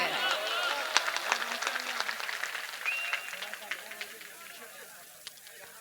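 Audience applause at a national unity conference speech, a steady wash of many hands clapping with scattered sharper claps, moderately loud and fading slightly toward the end, with no voice over it.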